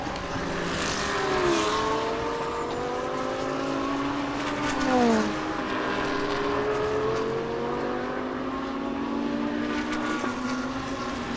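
Race cars scream past on a circuit during a Thailand Super Series race, with a Lexus RC F leading the pack. Overlapping engine whines rise and fall as they sweep by at a distance, continuous and layered.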